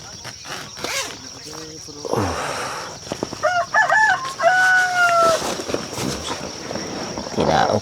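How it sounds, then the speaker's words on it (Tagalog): A rooster crows loudly nearby, its drawn-out call rising and falling, with people talking quietly before and around it. "Tilaok ng manok."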